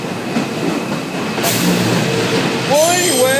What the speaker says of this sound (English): Just like this passing train